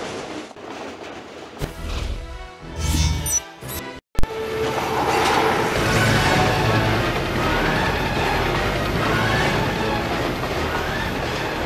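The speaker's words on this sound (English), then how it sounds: "I've got to stop this train" A train in the Spider-Man 2 video game on PSP: a horn blares briefly amid clattering, then a loud, steady rumble of wheels on rails rolls on without letup, with no talk over it.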